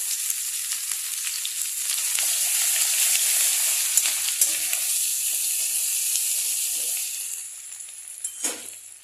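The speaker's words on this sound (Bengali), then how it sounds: "এখন দিয়ে দেব অল্প করে জিরা ফোড়ন, তার সাথে দিয়ে দেব শুকনো লঙ্কা আর তেজপাতা" Cumin seeds, dried red chillies, bay leaves and ginger sizzle steadily in hot oil, a bright continuous crackling hiss that fades near the end, with a few stirring scrapes and no talking.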